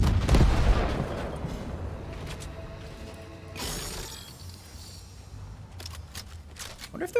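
A video game cannon fires with a booming blast, followed by a rumbling decay and scattered sharp cracks and impacts, with no talking.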